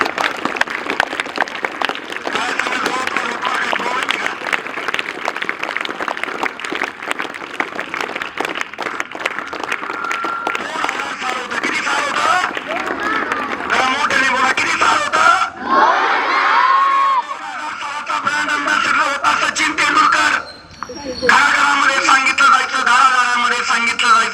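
A school audience at a Nighoj school event bursts into loud, sustained applause and cheering, with children shouting across a dense crowd roar that briefly dips before resuming.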